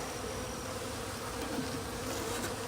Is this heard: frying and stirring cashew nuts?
no